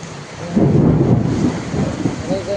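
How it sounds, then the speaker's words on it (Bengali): Low thunder rumbling close and loud, rolling for a couple of seconds over steady rain. "মেঘ ডাকছে দেখো"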